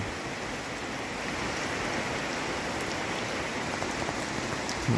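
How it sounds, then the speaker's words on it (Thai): Steady rain pouring down in the countryside, a dense, even hiss of drops drumming on surfaces, continuous and close throughout with no voices. "ฝนตกแล้ว"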